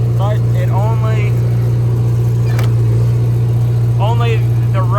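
A Komatsu D31S track loader, back in use after sitting more than ten years, runs and moves with a loud, steady, low engine drone. Short voice-like sounds break in above it.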